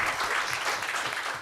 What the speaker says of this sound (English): can we have a round of applause for both Hello,